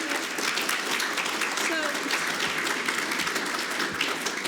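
Applause from a symposium audience, a steady dense wash of clapping throughout with a voice speaking over it.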